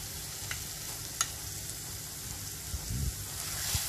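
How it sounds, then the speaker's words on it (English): Onions sizzle in hot oil with ginger garlic paste for a Bengali katla fish curry, a steady close crackle with a few soft stirring scrapes and light pops, no voices. "Once the onions are lightly fried and the oil starts releasing, I am going to add the ginger garlic paste."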